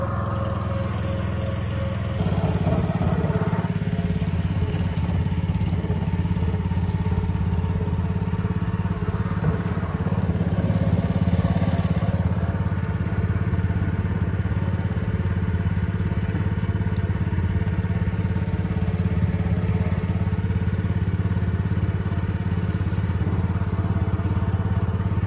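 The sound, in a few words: motor boat engine running on a lake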